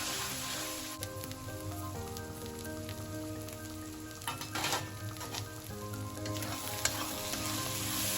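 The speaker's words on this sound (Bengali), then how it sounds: "অল্প চিনি দিয়ে এবার ভালো করে মশলা কষিয়ে নেব।" Ground spices — cumin powder, Kashmiri chilli powder, salt and a little sugar — sizzle steadily in a pan for chicken shahi curry, with repeated scraping stir strokes and a faint background hum, no voices.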